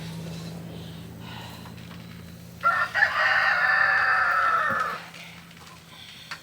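A rooster crows once, a loud drawn-out call lasting about two seconds, over a steady low hum in a quiet chicken coop.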